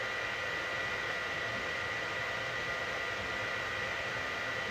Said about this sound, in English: that's cut down on quite a bit of the noise from the filament dryer.